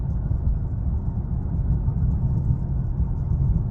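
A car being driven, heard from inside as a steady low engine and road rumble that holds an even level throughout with no talking.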